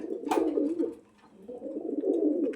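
A Benaras-quality fancy pigeon coos in a steady, throaty rolling rhythm, close and fairly loud, easing off briefly midway before resuming.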